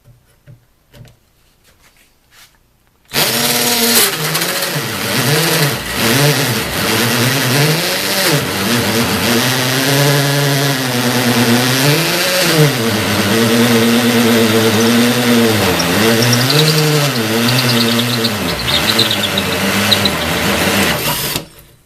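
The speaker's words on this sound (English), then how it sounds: "it's been clicked over to hammer drill mode. So let's give it a shot here." Harbor Freight 18V cordless 1/2-inch variable speed hammer drill in hammer mode on high speed setting, drilling steadily and loudly for about nineteen seconds after a quiet start, its pitch dipping and wavering as it bogs down.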